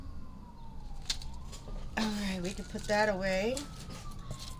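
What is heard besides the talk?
emergency vehicle sirens passing nearby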